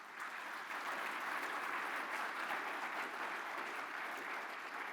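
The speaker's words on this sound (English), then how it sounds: "Please, let's hear a huge round of applause for the team behind all of this." An audience at the opening of the annual meeting of an international forum of sovereign wealth funds applauds the organizing team with steady, soft, distant-sounding clapping that fills the room evenly.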